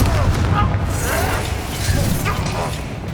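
Spell blasts from a Hogwarts Legacy fight rumble as heavy, continuous booming explosions, with a voice talking over them.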